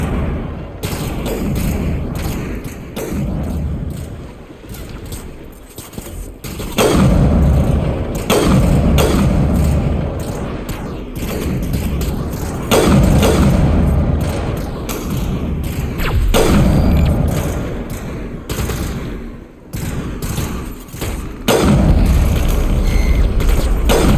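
Heavy gunfire in the sci-fi shooter Mass Effect Legendary Edition comes as loud, booming thuds and rumbling impacts in repeated waves, swelling and easing with brief lulls in between.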